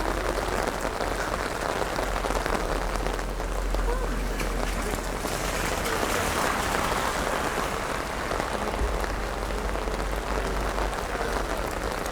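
Steady, heavy rain patters and hisses on a surface, a dense, continuous wash of sound close by.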